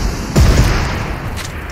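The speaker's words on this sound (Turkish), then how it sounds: "RPG patlattım abi" A single heavy boom from an RPG rocket explosion in PUBG Mobile heavy weapons mode, a loud low burst that rolls off into a rumbling tail, heard close and alone.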